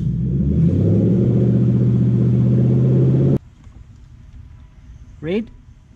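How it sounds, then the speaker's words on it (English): Toyota 1UZ-FE VVTi V8 engine swapped into a Mk3 Supra, running with a loud steady rumbling idle that cuts off abruptly, leaving faint background noise and a brief rising whine near the end. "Bring the revs up."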